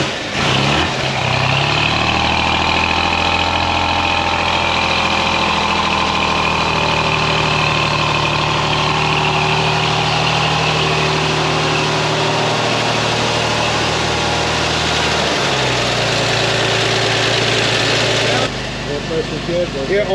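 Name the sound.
1954 Corvette prototype engine idling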